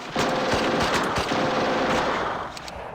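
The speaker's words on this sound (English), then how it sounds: "And then the MG shoot." Machine gun fire in the Steel Panthers WW2 video game: a loud, continuous burst of rapid rattling shots lasting nearly three seconds, tapering off at the end.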